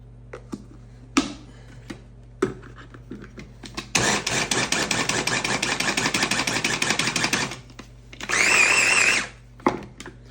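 Brown sugar and cinnamon are mixed into a streusel topping with an electric mixer, a loud buzzing whir running for several seconds, then a shorter second burst, with scattered clicks and taps before and after.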